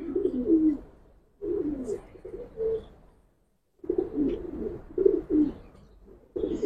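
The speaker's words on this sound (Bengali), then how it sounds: "এটা একটা নর কবুতর" Repeated throaty cooing from a male Giribaz pigeon, a pure-line high-flying breed, in rolling bursts with short pauses, fairly close and clear.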